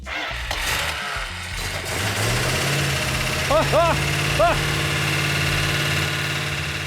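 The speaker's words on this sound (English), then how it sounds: "I'm gonna crank it a little bit and see how she sounds. Give her a little fuel." A freshly built engine turns over and settles into a steady running drone, with a few brief squeaky chirps partway through; someone talks over it at times.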